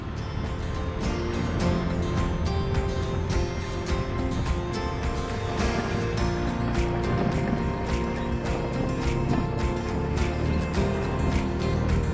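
The Ushguli River rushes beside the mountain road from Mestia to Ushguli, fed by hillside runoff. Loud, continuous broadband water roar with a rumbling low end, steady and unbroken throughout, with no voices.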